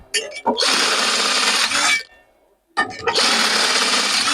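A power drill whirs loudly and steadily for about a second and a half, stops briefly, then starts again and runs continuously, close by, while building an e-bike hub motor wheel.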